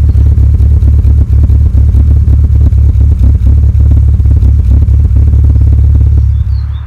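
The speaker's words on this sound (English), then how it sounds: "we're put a little bit of an idling video in, and you'll see the idle," A Classic Mini with a John Cooper Works conversion idles after a cold start, its engine giving a loud, steady low rumble with a lumpy, uneven pulse and light mechanical clatter throughout, close by and with no talk.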